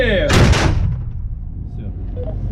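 A Russian Nona-SVK self-propelled mortar captured near Balakliia fires a single shot, a sharp loud blast with a rumbling decay, with voices talking around it.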